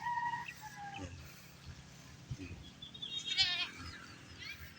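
Goats bleat a few times, one call near and others farther off, amid faint background farmyard noise and some distant voices.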